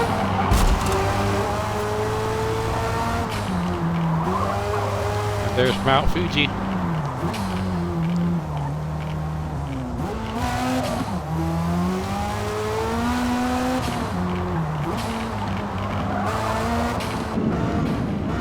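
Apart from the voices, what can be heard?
race car engine in Forza Motorsport video game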